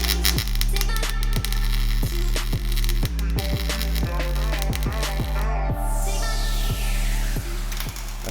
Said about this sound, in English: Last, I start hitting the underside welds.